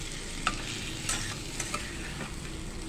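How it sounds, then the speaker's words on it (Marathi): Marinated shrimp, seasoned with salt, turmeric and lemon, being stirred and sautéed in a pan, giving a steady close sizzle with a few scraping clicks of the spoon and no voices. "हे बघा, आता छान आपण अशी परतवून घ्यायची कोळंबी।"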